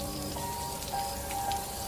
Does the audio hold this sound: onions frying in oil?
no